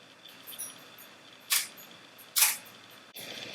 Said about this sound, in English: that was a really, really slow shutter speed